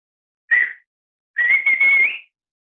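A man imitates a football referee's whistle with his mouth: a short shrill blast, a pause, then a longer warbling blast, sharp and close with silence between.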